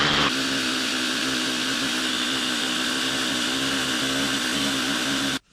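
A cordless drill whirs steadily at high speed while hooking up power to a cabin, a continuous loud motor whine with no talk, cutting off abruptly at the end.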